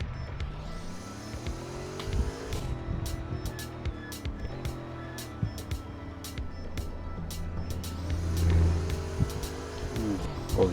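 A 2023 DTM N4 GT3 race car engine in a Roblox racing game drones steadily, pitch climbing and dropping through gear shifts and revs, with quick clicking ticks over the top.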